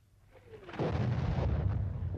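Trench mortar shell bursting on the Western Front, a deep rumbling explosion swelling from a faint start into a loud, sustained roar.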